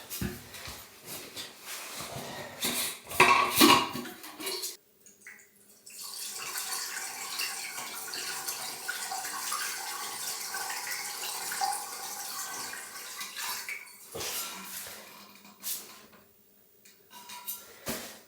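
Water rushing out through a drain pipe before a toilet is installed in an off-grid house in the woods, a steady hollow gurgling flow that runs for several seconds with a few brief gaps.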